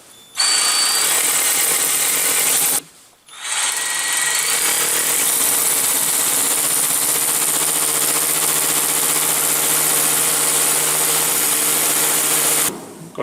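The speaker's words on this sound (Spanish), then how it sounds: "Realizamos el taladro." An electric drill bores 6 mm holes into a wall for wall plugs while a heating timer is being installed. It whines loud and close in one long run, with a brief pause near the start and another near the end.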